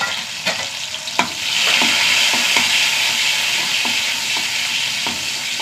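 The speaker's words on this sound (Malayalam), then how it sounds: "ഉള്ളി നന്നായി മൂത്ത് വെക്കാൻ." Shallots and dried red chillies frying in hot coconut oil with mustard seeds, a steady loud sizzle with occasional stirring taps and scrapes of a spoon against the pan.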